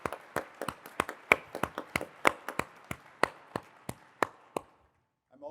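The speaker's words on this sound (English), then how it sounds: "let's give her a big round of applause" Sparse clapping at a community meeting, a handful of distinct hand claps ringing out one by one at an uneven pace, fairly close and thinning out before falling silent.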